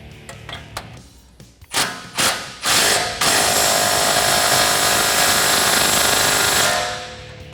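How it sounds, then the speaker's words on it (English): An impact gun with a 19mm socket tightens a castle nut on the stud of a front upper control arm on a 2005-2023 Toyota Tacoma: a few short, loud rattling bursts, then one long steady hammering run that fades out at the end. "So now we can take a 19mm socket on an impact gun to tighten down our castle nut."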